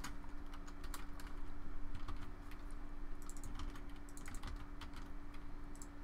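Rapid clicking of a computer keyboard as someone types steadily for several seconds, with short bursts and brief pauses, close and fairly quiet against a low steady hum.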